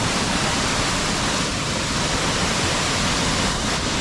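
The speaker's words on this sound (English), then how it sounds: "Here's the waterfall." Waterfall in Vanuatu pouring in a loud, constant broadband rush of water, close by and steady throughout.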